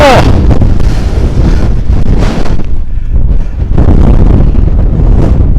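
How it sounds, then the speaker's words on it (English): Strong, continuous wind on Holyhead Mountain roars and buffets across the microphone, loud and gusting throughout with no pauses. "the other side is where the wind's coming from"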